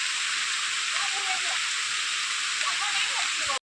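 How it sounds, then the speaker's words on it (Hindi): Heavy monsoon rain pours down in a dense, steady hiss, loud and continuous all around, at a hillside village home, with a faint voice briefly murmuring beneath it. "ये देखिए दोस्तों कितनी मोटी बारिश आ रही है"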